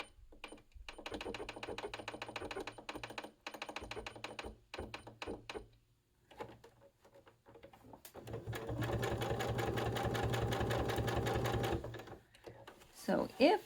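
Domestic sewing machine stitching a quilt block for a summer surfboards quilt, running in close rapid bursts with short pauses, then a longer sustained run; no speech over it.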